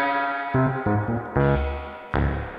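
Universal Audio Electra 88 electric piano chords played in short phrases, each note washed in a splashy, springy reverb that rings and decays between hits.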